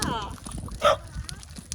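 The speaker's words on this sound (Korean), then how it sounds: "얘도 멍멍해." A small dog at a countryside home gives a short yip and whimper at close range, under the voices of people chatting nearby.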